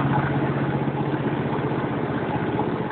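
An ATCO/John Deere garden tractor engine runs steadily as the machine pulls away gently in first gear, making a close, loud, even chugging drone with no voices over it.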